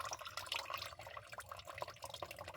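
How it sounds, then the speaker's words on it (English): Water trickles steadily through a homemade Lego water-cooling fan, a thin continuous stream splashing close by, with no talking. "You can see a little bit of a water stream going there now."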